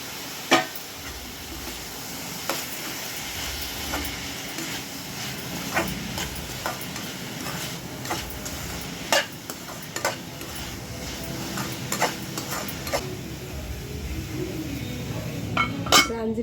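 Chicken pieces tossed into a pan of frying onions for a Korean-style chicken curry, with a steady sizzle under repeated sharp clinks and scrapes of a spoon stirring against the metal pan.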